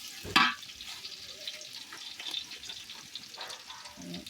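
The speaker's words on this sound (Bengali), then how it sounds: "এলাচ দিয়ে দিতেছে যে ভাজা ভাজা হবে তার জন্য এলাচটা দিয়ে দিলাম" Cardamom and cinnamon frying in a pan on a village clay stove, heard as a faint, soft sizzle with a sharper clatter at the start and occasional light stirring.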